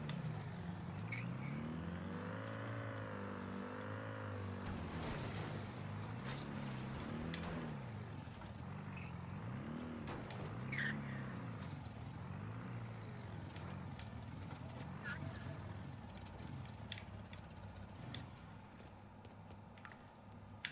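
A forklift drives in Mafia III with a continuous engine drone whose pitch rises and falls as it moves and manoeuvres, moderately loud and steady, with no talking.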